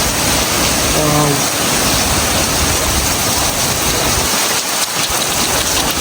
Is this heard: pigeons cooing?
no